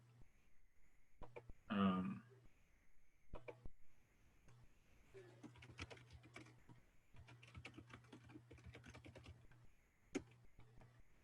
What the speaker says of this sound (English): I'll type it in here for you.